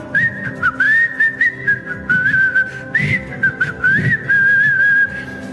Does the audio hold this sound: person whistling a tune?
yes